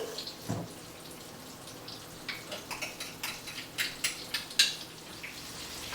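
Peach fritters deep fry in hot oil with a low, steady bubbling sizzle, then a run of quick, soft crackles and pops gets denser toward the end.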